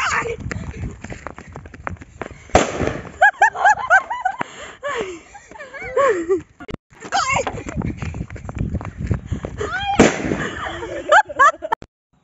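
Sharp bursts and pops of firecrackers going off near the microphone on a farm, mixed with excited voices and laughter throughout.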